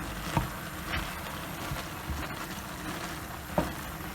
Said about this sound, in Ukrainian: і перемішую.